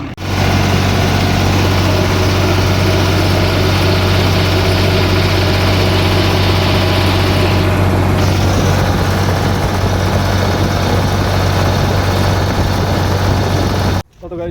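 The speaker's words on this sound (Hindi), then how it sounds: "चलते हैं ट्रैक्टर लेके आते हैं" A tractor engine idles and runs steadily with a heavy low drone, close and continuous throughout, cutting off abruptly at the end.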